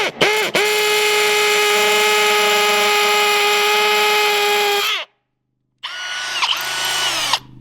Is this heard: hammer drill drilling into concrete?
yes